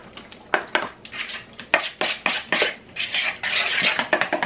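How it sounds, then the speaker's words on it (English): A spoon works through a ricotta and cream cheese manicotti filling mixed with Parmesan in a bowl, giving repeated close, sharp clinks and scrapes in an uneven rhythm, with no voices. "The ricotta cheese stirs really easy."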